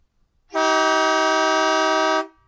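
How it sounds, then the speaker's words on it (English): One loud, sustained blast from an air horn, a brassy tone holding steady for nearly two seconds before cutting off. "You've got an air horn."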